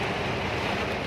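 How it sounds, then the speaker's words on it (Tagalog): Strong wind during heavy rain outdoors, a loud, steady broadband roar and rush that fills the whole moment without a break, with no voices. "Ang lakas na nga ng hangin."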